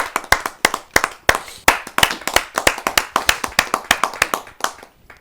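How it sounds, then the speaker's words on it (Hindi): Audience at a Hindi kavi sammelan, a comic poetry recital, clapping in rhythmic, sharp, evenly spaced claps. The claps sound close and fairly loud and keep a steady beat throughout. "आइए जोरदार तालियां सुनकर स्वागत करते हैं।"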